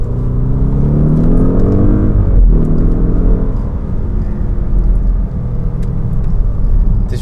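An Audi S8's 4-litre TFSI engine rumbles loudly and close up, with a rising rev partway through that then settles back into a deep, steady idle-like growl, with no voices.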